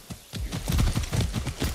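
Hooves of a galloping horse being ridden in Far Cry 6, a rapid rhythmic clip-clop pattern of thudding hoofbeats, close and fairly loud.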